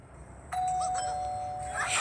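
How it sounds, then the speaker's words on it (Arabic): A video game doorbell chimes once, a bright sustained electronic tone that rings out over a faint low hum, with a brief higher sparkle near the end. "انا اهو وبنضرب الجرس ونمشي."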